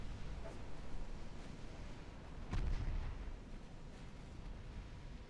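A torpedo strikes a ship in the naval game Ultimate Admiral Dreadnoughts, a single muffled boom rising out of a constant low rumble of sea and engines, then fading back into it.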